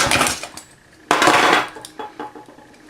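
Machining sections of continuous metal hinge gives sharp metallic clanks and a harsh grinding burst, with scattered clinks between, close and loud.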